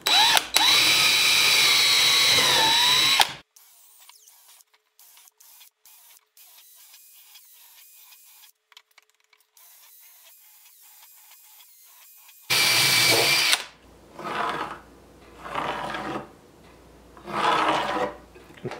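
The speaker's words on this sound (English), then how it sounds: "I can use the drill to drill out my holes" A cordless drill whines loudly for a few seconds drilling holes in rough sawn lumber, then quiet follows, then another drilling burst and several short grinding bursts in quick succession.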